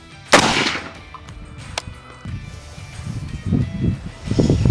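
One loud shot from a UAR-15 rifle bangs out early during zeroing with a ringing tail, followed by quieter rustling and handling noises.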